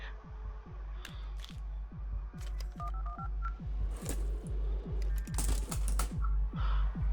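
A telephone in the video game Buckshot Roulette gives a rapid series of dialing beeps and clicks, a regular ticking rhythm with short tonal blips layered over it, close and fairly quiet.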